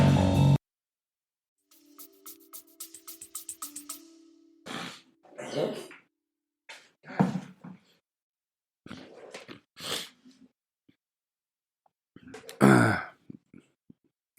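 Throat clearing and nose clearing, a series of separate snorts, sniffs and throat scrapes heard close and loud, with short silent gaps between them and no speech.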